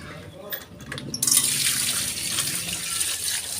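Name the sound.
water running while washing vegetables in a strainer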